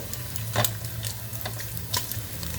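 Bacon frying in a pan as its grease renders, a soft steady sizzle with a few sharp crackles and spits, close and quiet, no talking.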